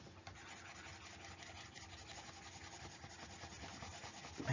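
An eraser scrubs steadily across paper to rub out a drawing, a soft continuous rubbing that comes close and faint with no talking.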